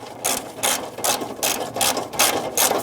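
Rapid ratcheting bursts from a ratchet wrench backing out bolts behind the grille of a 1997-2006 Jeep Wrangler, about eight quick close strokes in a steady rhythm with no talk.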